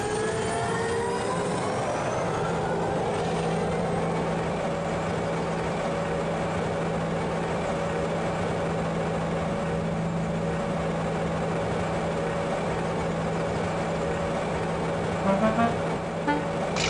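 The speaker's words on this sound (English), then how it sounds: "It started with a low hum, then turned faster and faster until it made a steady whine." A train engine starts up in a shed, rising from a low hum into a steady, sustained whine that holds evenly, with a brief louder burst near the end.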